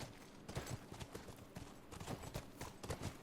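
Horse hooves clip-clop at a steady walking pace in The Last of Us video game, faint and continuous with uneven thuds and no clear talking.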